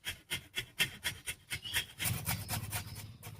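Giant taro (mankochu) is grated by hand in a kitchen, a rhythmic series of close, raspy scraping strokes that speed up toward the end.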